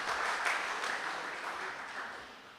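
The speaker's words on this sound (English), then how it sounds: "Let's give them a round of applause for being here with us this evening." Audience applause at a political party zonal meeting in a community center, a dense round of clapping that is loudest early and gradually fades over a couple of seconds.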